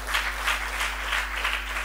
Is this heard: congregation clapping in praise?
yes